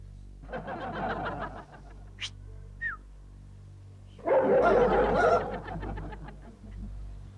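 A dog barks in two loud bursts of repeated barks, one near the start and a stronger one midway, with short bird-like chirps and quiet stretches between them.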